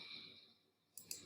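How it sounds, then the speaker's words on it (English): Two quick, faint mouse clicks sound near the end, a sharp pair of right-clicks on a computer mouse after a stretch of quiet room noise. "I'm just going to right click and do edit."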